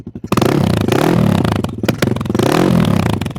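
A Honda XR400 four-stroke motorcycle engine running, a loud close rapid throbbing exhaust note with clattering mechanical texture that rises and dips slightly in revs.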